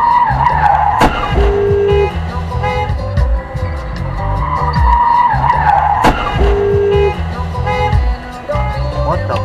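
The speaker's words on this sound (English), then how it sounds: "The car goes a little too fast while making a left and smashes headfirst into another car." A car takes a left turn too fast and smashes headfirst into another car. Loud tire skidding and engine noise swell and fade, broken by two sharp impact-like cracks several seconds apart.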